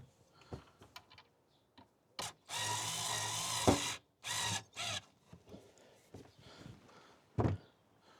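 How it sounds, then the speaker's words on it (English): A powered screwdriver drives a screw into a wooden 2x2 inside a car camper build, giving a close whirring burst of over a second, then shorter bursts between scattered taps and handling clicks. "screwdriver and get that screwed in."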